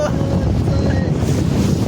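A boat moving across water heard from on board, with strong wind buffeting the microphone and a loud continuous low rumble of engine and water throughout.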